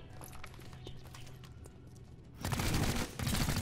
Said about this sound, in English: Just fire the weapon.